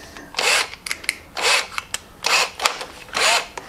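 An old power drill runs in four separate bursts of roughly half a second each, evenly spaced with short pauses and faint clicks between them. It whirs loudly and close, with no talk.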